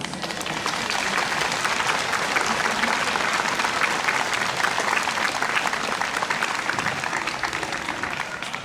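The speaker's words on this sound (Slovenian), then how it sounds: "Aplavz." A concert audience in the Volčji Potok arboretum gives sustained, loud applause for a singer, a thick, even roar of many hands clapping that holds steady from start to finish.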